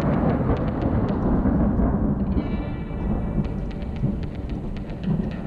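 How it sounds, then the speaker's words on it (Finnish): Thunder rumbling through steady rain during a gravel bike race, a continuous loud roar with a brief higher crackle midway. "hyvin ukkonen lyö"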